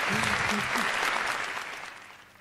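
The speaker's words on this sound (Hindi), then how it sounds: "सब शादीशुदा लोग ताली बजा रहे हैं" Audience at a ghazal poetry recital (mushaira) clapping in a warm burst of applause that gradually fades, with a voice briefly heard over it.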